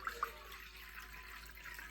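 Water is poured into a container to measure a dog's water bowl, a faint, steady trickling hiss lasting the full two seconds, with a couple of small clinks at the start.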